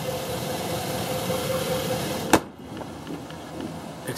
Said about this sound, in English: The vehicle started right up.